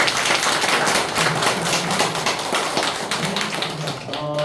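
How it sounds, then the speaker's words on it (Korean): Sustained clapping from an audience at a seminar after a lecture, dense and steady for several seconds at close range, with faint voices mixed in near the end. "우리 문 대표님께 크게 박수 한번 해주세요"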